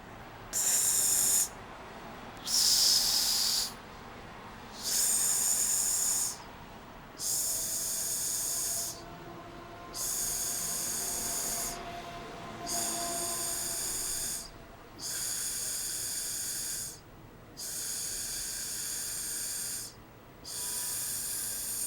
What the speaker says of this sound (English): you can choose to really force out that air, and then in between, you're taking a nice, big, deep belly breath